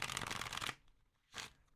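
A deck of tarot cards riffled in one steady burst of crisp flutter, then a brief soft swipe as a card is drawn, close and clear with no voices.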